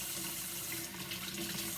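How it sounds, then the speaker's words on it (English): A bathroom tap runs steadily while water is brought to temperature for bathing an eight-week-old puppy, a constant soft splashing hiss with no pauses. "First, I take my time with the water because I want the water to be just the right temperature."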